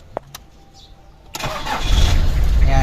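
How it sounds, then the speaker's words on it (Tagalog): A used diesel van engine cranks and catches after a couple of faint clicks, then quickly builds into a loud, steady, rumbling idle close by. "Ayan, yan yung makina niya."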